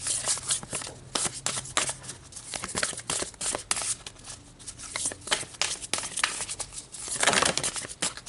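Tarot cards are shuffled up close in a dense run of crisp riffling and flicking bursts that continues steadily throughout, with no voices.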